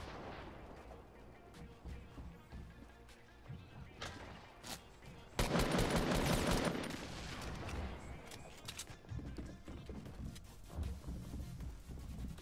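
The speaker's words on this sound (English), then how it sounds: "Why are they all shooting at me?" Dense enemy gunfire in Fortnite, dull cracks and booms rumbling throughout, swelling into a loud sustained barrage in the middle before easing back to scattered shots.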